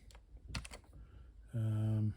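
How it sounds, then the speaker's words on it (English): Quick bursts of key presses on a computer keyboard while entering a basic program, a few clustered taps close by before a sustained electronic tone cuts in near the end. "Quite a nice keyboard."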